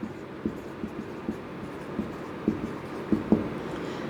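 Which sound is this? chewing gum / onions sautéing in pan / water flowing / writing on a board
writing on a board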